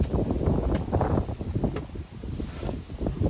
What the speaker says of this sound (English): It's gotten very windy all of a sudden.